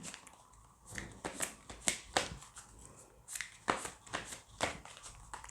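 New oracle cards being handled and shuffled, a run of crisp close riffling flicks and snaps arriving in quick irregular bursts, quiet and alone without voices.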